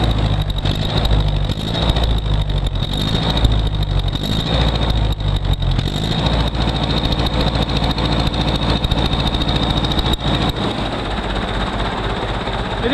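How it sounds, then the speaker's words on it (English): A Massey Ferguson 65 tractor engine runs steadily for a long stretch, a dense, loud mechanical rumble with a constant whine on top and no letup. "Massey Ferguson 65 tractor is up and running again"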